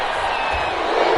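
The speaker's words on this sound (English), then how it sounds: "This crowd does not like that call" A stadium crowd in a PS4 football video game roars in disapproval over a penalty flag, a dense, steady wall of loud crowd noise with scattered shouts, lasting about a second.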